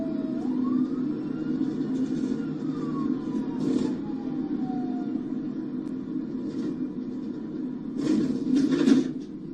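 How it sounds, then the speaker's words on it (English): A police car siren winds up, a single rising and falling wail heard faintly from inside, over a low rumbling engine hum with a few thumps and knocks. "You'll hear the audio turn on here when he turns his lights and sirens on."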